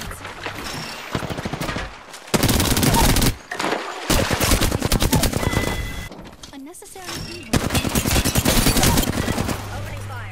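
Automatic weapon fire in the video game Apex Legends, loud rapid bursts of shots in several long volleys separated by brief pauses, with game voice lines in between.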